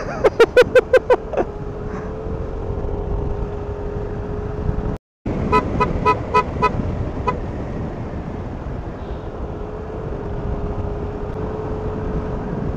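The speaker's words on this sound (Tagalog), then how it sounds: "Ayaw niya ng busina ko." Car horn honking on a ride through Infanta, Quezon: a quick burst of repeated short toots at the start, then another series of toots midway, over a continuous engine and road rumble.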